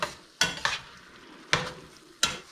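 Rice is stirred into a stuffed-pepper filling sizzling in a pan, with four quick scraping spoon strokes over a soft frying hiss.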